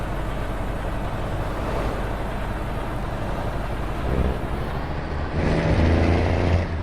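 Heavy truck engine in Euro Truck Simulator 2, a horse-trailer rig pushing around 190 speed: a loud, steady, continuous drone with road noise, deepening and growing slightly louder in the last seconds, with no one speaking.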